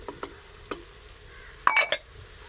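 Onions frying in a pan with masala for chicken sobat give a soft low sizzle, broken by a few light spoon taps and a brief louder clatter of stirring near the end.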